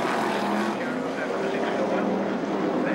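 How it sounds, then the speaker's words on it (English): Loud, continuous engine roar from several stock cars racing into a turn, a dense steady drone with shifting pitch, distant commentary voice faintly underneath. "Listen to those engines roar."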